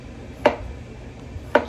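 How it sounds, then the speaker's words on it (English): A knife chopping vegetables on a board, two sharp separate strikes about a second apart over quiet room tone. "Chopping away."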